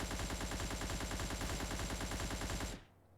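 AN-94 Abakan rifle firing on full auto, a rapid, steady stream of loud, close gunshots lasting nearly three seconds before stopping abruptly.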